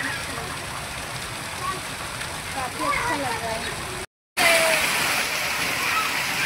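Heavy rain pours with strong wind, a dense steady hiss of falling water throughout, briefly cut off near the middle, while a person talks over it and children can be heard nearby.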